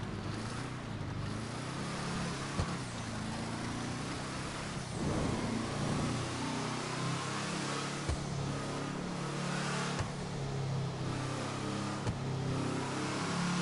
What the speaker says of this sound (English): This car is actually very fast.